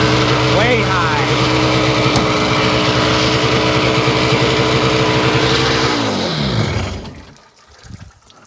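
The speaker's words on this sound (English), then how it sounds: "Now it's idling too high." A Seadoo RFI 787 two-stroke engine runs at a steady, too-high idle, loud and close with a constant buzzing drone, then winds down and cuts off near the end, leaving quiet.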